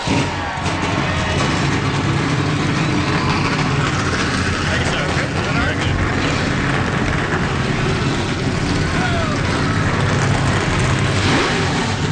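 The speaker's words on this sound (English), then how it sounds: "Drivers, start your engines!" Race car engines in the NASCAR Racing 2003 video game fire up and rumble at Texas Motor Speedway, a dense, loud, continuous roar of many motors with revving throughout.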